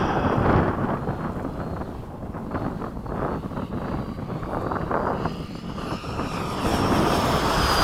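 A radio-controlled Hobby King 90mm MiG-17 Fresco jet in flight on a maiden outing, with a steady loud rushing whine throughout, partly roughened by wind buffeting on the microphone, with no talk.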